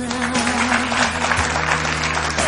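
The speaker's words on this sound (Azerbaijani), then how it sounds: "Möhtəşəm alqışlar." An audience claps loudly and continuously at a stage show, a dense close patter of applause with a low hum running beneath it and no break.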